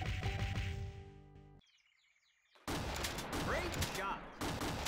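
Loud arcade gunfire from the Big Buck Hunter: Call of the Wild hunting shooter, Midwest region, bursts of shots with bird chirps and game sound effects around a brief quiet gap.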